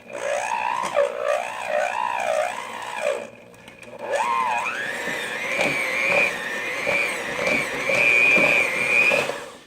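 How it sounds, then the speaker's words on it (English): A handheld electric mixer on low speed works through meat loaf ingredients, gluten free, keto and pork free. Its motor whines steadily and wavers up and down as the load shifts, with a brief pause partway through before it starts up again. "get my handheld mixer in here to mix everything up. And mix on low."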